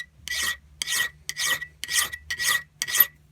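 A hand file rasps over hardened tool steel during polishing, six steady back-and-forth strokes in an even rhythm, close and alone with a faint low hum underneath.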